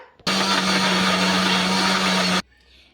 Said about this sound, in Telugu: మూత పెట్టేసుకొని మిక్సీ అయితే పట్టేసుకుందాం